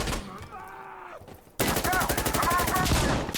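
Rapid automatic gunfire from a drum-fed weapon in the tactical shooter Insurgency: Sandstorm, loud and sustained after a brief quieter stretch, with dense repeated shots close to the listener.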